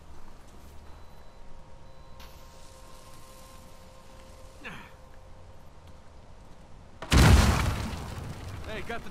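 A dynamite blast goes off in Uncharted 4: a sudden, loud, close boom after a quiet stretch, followed by a rumbling decay with debris-like crackle.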